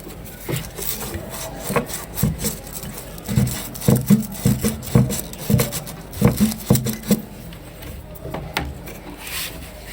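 A cut copper AC or refrigerator pipe is rubbed with a file in a steady series of short, close rasping strokes, growing denser in the middle and easing toward the end.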